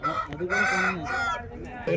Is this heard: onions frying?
no